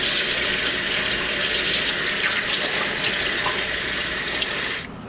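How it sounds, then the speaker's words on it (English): Tap water runs steadily into a sink while hands are washed beneath it, a close, even hiss and splash that cuts off near the end. "is to wash your hands."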